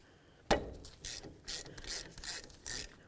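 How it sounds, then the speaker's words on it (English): A hand ratchet loosens the 15mm-headed brake caliper bolts on the front wheel of a 2000-2005 Buick LeSabre: a sharp clack, then five or six short bursts of rapid pawl clicking, close up and unaccompanied by talk. "I'm going to come right here to these 15mm headed bolts and we can remove the pair."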